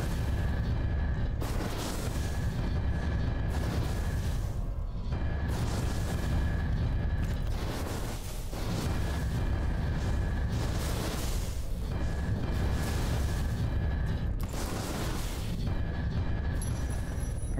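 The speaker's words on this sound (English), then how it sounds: "And we've got fireball launchers." Fireball launcher traps firing repeatedly in Tomb Raider: Anniversary, a series of loud booming bursts about every two to three seconds over a steady rumbling background, with no talk.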